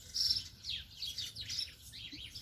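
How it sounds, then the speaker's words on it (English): Small birds chirp and tweet in rapid, overlapping bursts in a backyard garden on a quiet morning, bright calls repeating throughout at moderate distance with no voices. "Those guys are just chirping away."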